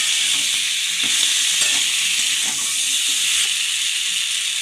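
Potato curry for aloo dum fries loudly in a pan, a dense, steady sizzling hiss close up, with faint stirring scrapes under it and no pause throughout.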